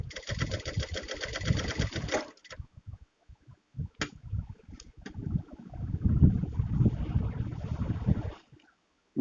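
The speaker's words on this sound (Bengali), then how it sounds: "তো আমি এখন মেশিনের সুইচটা দিব এখন" A sewing machine threaded with red on top and white below runs in close, loud bursts, stopping and starting as it sews, with stitch-quality problems underneath.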